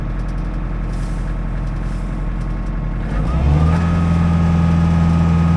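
A Kubota LX3310 HST compact tractor engine idles with a low, steady rumble, then revs up to wide-open throttle, settling into a loud, sustained drone with a rising hydrostatic whine, close by and without speech.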